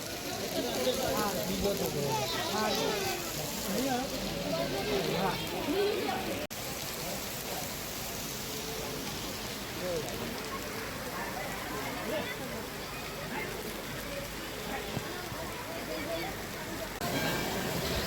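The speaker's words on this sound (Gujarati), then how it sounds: "સારો વરસાદ પડવા માંડ્યો છે" Steady heavy monsoon rain pours down continuously at Bhaguda, a dense hiss with constant drops and splashes, close by; a person talks intermittently under the downpour.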